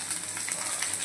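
Chopped onion and garlic sizzle in hot spiced oil in a pan, with a constant close hiss and crackle and no break.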